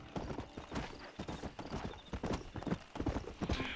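Horse hooves clip-clop in a steady, brisk rhythm in Red Dead Redemption, close and continuous, with no voices.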